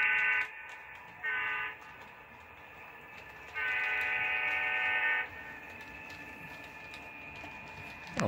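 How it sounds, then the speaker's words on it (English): A model train passes on a layout, its horn sounding in three blasts, two short and one long, over a steady low rumble of running wheels. "I don't think this many trains have ever gone through here in a day."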